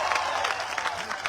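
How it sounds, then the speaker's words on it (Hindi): A crowd at an AIMIM political rally in Parbhani applauds and cheers, a dense wash of clapping heard briefly. "जोरदार तालियों से फारूक शाब्दी का इस्तकबाल करिएगा।"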